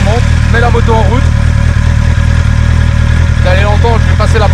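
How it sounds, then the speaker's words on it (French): A 2024 Honda CB650R motorcycle with E-clutch idles loud and close after being started, a steady rumbling four-cylinder drone, while someone talks over it throughout. "je vous montre, je mets la moto en route"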